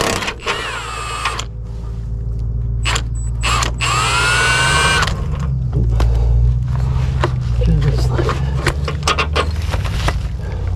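Impact gun loosening hardware on a first-generation Toyota Tacoma differential, a few short loud mechanical whirring and rattling bursts, close up in a garage, followed by clanks and tool handling.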